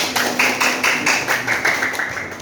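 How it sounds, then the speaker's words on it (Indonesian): A classroom of young students clapping together in steady rhythmic bursts, fairly close and lively, with no talk over it. "Kasih tepuk tangan dulu."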